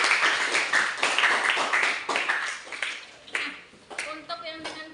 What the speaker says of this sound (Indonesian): tepuk tangan untuk Nurul.